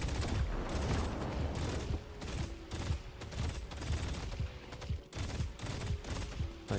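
Rapid gunfire in the video game Deadlock, dense bursts of repeated shots in a quick uneven rhythm, fairly faint and continuous across the whole stretch.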